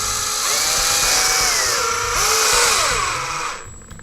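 A small power driver whirs steadily, loud and close, as self-tapping screws go into plastic front-arm parts of an Axial EXO Terra RC buggy kit, its pitch rising and dipping as each screw seats.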